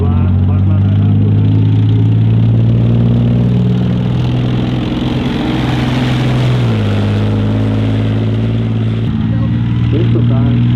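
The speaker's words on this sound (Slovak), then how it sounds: "Táto váha je poháňaná 12-valcovým motorom, ktorý má 1500 koňských síl." A Leopard 2A4 tank's 12-cylinder 1500 hp engine runs at a steady loud idle with a deep droning hum that shifts pitch midway, while a voice talks over it throughout.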